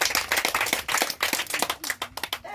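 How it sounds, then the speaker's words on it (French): Children at a church evangelisation gathering clap together to acclaim the Lord, a brisk rhythmic run of close, sharp handclaps with a voice briefly heard near the end. "On acclame le Seigneur pour lui"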